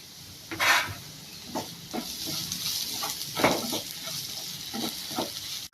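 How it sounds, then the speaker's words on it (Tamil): Onions and potatoes cook in a pan for Chettinad mutton podimas. A steady sizzle runs under irregular scraping stirs and clatters from a spoon, heard close by. "இப்போ இந்த வெங்காயம் உருளைக்கிழங்கு எல்லாம் நல்லா வெந்துட்டு இருக்கு"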